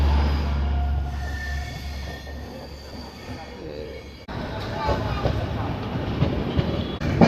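A passenger train in general class rolls through Mathura Junction without stopping, rumbling with rhythmic wheel clatter and squeals that grow louder partway through, while someone talks over it.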